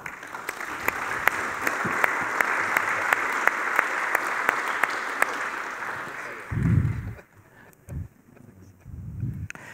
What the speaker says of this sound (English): Please give a big round of applause to our panel.